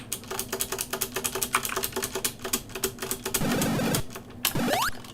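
Typing on an Acorn Electron computer keyboard, a quick run of close, sharp key clicks followed by a few denser bursts of game noise near the end, with no talk.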